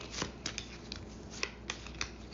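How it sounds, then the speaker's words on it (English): Cards being shuffled, with a fluttering riffle and several sharp snaps of the deck at close range. "And then you'll take the second deck and shuffle it."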